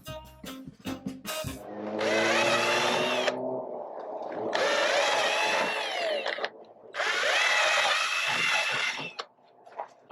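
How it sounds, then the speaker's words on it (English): A power drill boring holes in a trailer sidewall during assembly, with three sustained whining bursts of several seconds each separated by short pauses, loud and close. "Mark these holes to be drilled."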